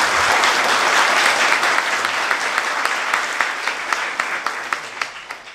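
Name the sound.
audience applause for athletes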